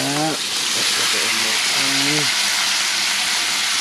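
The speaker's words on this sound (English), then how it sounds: "We're just going for a sear, so we don't need to cook it anymore." Meat cooked sous vide gets a final sear in a hot pan: a loud, steady hiss and sizzle runs throughout, with a voice briefly heard over it.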